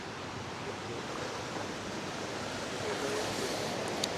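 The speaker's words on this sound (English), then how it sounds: "River flowing down" A river rushes near Savica waterfall in Slovenia, a steady broadband roar of flowing water heard close by, with no talk over it.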